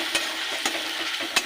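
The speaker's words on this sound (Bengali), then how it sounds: "এবার দিয়ে দেবো বাটা মশলা। মশলাটাকে একটু কষিয়ে দেবো।" Ground spice paste sautéing in a pan with fried onions, a steady sizzle broken by three sharp scrapes of stirring, close and clear with no talk.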